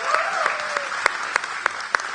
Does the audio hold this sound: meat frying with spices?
no